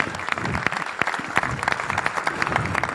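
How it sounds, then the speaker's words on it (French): Dense, steady applause from an indoor audience at the announcement of the 2026 Madeleine bullfighting lineups in Mont-de-Marsan, with many hands clapping continuously and evenly for the full three seconds. "Je pense qu'on peut les applaudir parce que ça commence par là."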